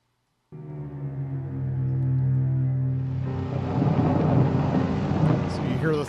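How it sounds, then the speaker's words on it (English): A deep, sustained rumble of thunder swells and grows louder, with a rough, roaring texture building over several seconds. "So you hear the thunder that we just incorporated into it"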